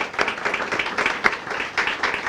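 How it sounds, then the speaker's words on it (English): A round of applause for the mayor at a city grand opening ceremony in Linden: a modest crowd claps in scattered, uneven bursts, moderately near and fairly light, with no voices over it. "let's give him another round of applause"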